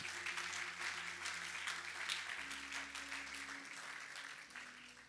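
A church congregation applauding in praise of the Lord, a steady wash of many hands clapping at moderate distance, sustained throughout with a faint hum beneath.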